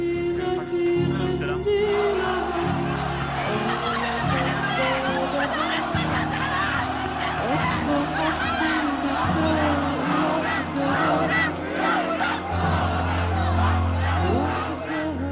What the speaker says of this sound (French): Pour soutenir le peuple libanais, il a plongé dans cette foule révoltée